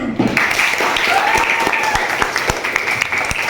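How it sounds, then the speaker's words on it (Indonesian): Students clapping in a high school classroom, a lively continuous burst of hand claps with some voices talking underneath. "Beri tepuk tangan"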